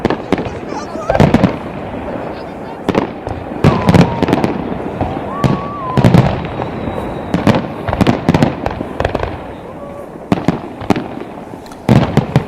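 New Year 2022 fireworks go off in rapid, uneven bursts of loud cracks and booms, close and continuous, with voices and crowd noise underneath.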